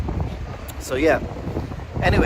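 Gusty wind buffets the microphone outdoors in Toyama, Japan, while a typhoon passes near Tokyo: a steady low rumble of wind noise runs throughout, with a person talking over it.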